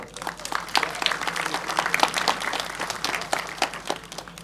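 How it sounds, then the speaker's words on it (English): Warm audience applause welcoming a Bollywood music composer to the stage at a filmmaking masterclass, steady and sustained with many hands clapping at moderate loudness. "please join me in welcoming with a warm round of applause"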